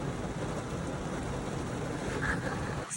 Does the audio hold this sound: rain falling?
yes